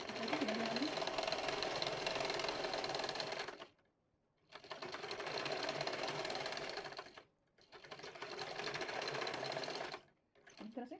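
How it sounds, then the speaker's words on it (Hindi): Electric sewing machine stitching a pair of pants, loud rapid continuous whirring runs of a few seconds each separated by short pauses, close up. "इसको चारों तरफ इस तरह से सिलाई लगा देंगे"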